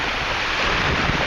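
Waves wash steadily into a small bay in Croatia, heard as a continuous close, hissing surge with some wind rush on the microphone.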